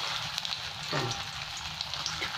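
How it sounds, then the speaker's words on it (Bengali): Soyabean chicken kofta balls frying in oil in a karahi, with the oil and pan scorched: a dense, steady crackling sizzle, close by, with one brief deeper bubbling burst. "আমার ক্যামেরাম্যান একটা কোপ্তা ভেজাচ্ছে, তেলও পুড়ে গেল আর কড়াও পুড়িয়ে দিল"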